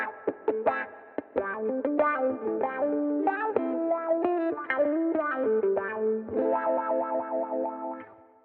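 Valeton GP200 wah effect held fully forward on an electric guitar gives a muddy, nasal tone to a close, sustained lead line of bent notes and short phrases ending in chords.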